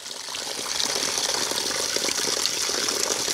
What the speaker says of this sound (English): You see how the water fills up?